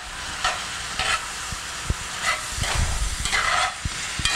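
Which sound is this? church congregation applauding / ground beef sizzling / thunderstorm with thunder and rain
ground beef sizzling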